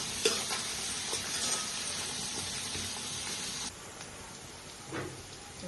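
Chicken pulao ingredients frying in a pan, a steady hiss and crackle of sizzling oil with soft stirring scrapes, dropping slightly quieter partway through.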